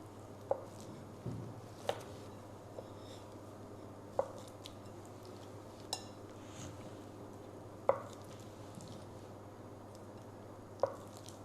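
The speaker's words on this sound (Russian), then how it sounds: "Наша самая любимая брынза. Режем мы таким образом." A knife cuts brynza cheese on a board in a quiet kitchen, giving a handful of soft, separate taps and thuds spread out over a low steady hum.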